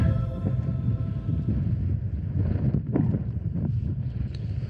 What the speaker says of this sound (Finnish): Tää vähän tuulee.